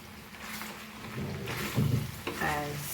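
Beef with pak choi and pepper stir-fried in a pan, a steady sizzle with stirring scrapes and clatter growing louder toward the end, close by, with a little talk or background voice mixed in.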